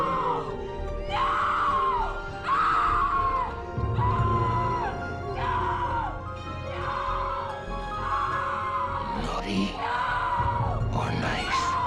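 A woman screams in terror again and again from a horror anthology episode, several loud, close, sustained shrieks in a rough rhythm, with crashing noises toward the end.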